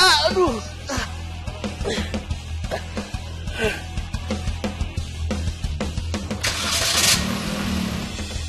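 A car engine cranks to life and the car rolls off under steady background music, with people talking over the engine throughout.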